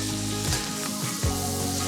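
Precooked, microwave-softened potatoes land in a hot pan with butter and steak seasonings, sizzling steadily and loudly, with a couple of sharper bursts as they are tossed in.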